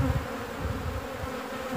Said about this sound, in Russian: Ну, это рой.